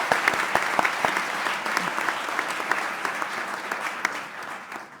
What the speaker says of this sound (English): Let's applaud each other for a wonderful session